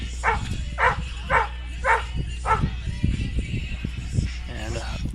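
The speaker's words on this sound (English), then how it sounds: "And Pup here in the stands enjoying the music." A dog in the softball stands gives a series of about five sharp, evenly spaced barks, fairly close, while a crowd murmurs and music plays in the background.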